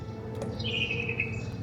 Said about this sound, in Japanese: ボタンを押すと鳥の鳴き声が聞けます。